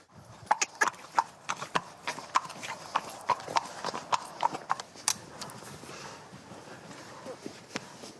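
Horse hooves clip-clopping in a steady walking rhythm at moderate distance, each strike sharp and distinct, spaced roughly evenly before thinning out toward the end, with light background noise.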